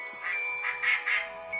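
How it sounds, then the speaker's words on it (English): A duck quacks in a children's story, with several nasal quacks coming in uneven bursts, close and fairly loud, with no talking over them. "Then he met Mr. Duck."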